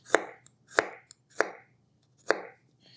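Knife slicing through fresh leeks on a cutting board with an Enzo knife, four crisp, evenly spaced chops standing alone with short quiet gaps between them.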